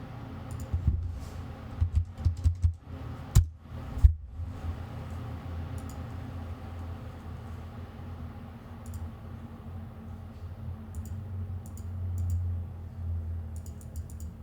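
A failing computer keyboard gives a quick cluster of key clicks and taps early on, then a steady faint background hum for the remaining stretch.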